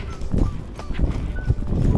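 Endurance horse trotting at about 7.5 mph on a long-distance ride, hooves clip-clopping in a steady rhythm, close and fairly loud over continuous wind and movement noise.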